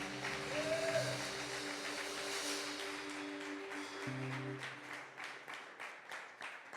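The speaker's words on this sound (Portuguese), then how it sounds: "Dê uma forte salva de palmas ao Senhor" Congregation clapping during a church service, faint scattered applause building into a steady patter over sustained keyboard tones.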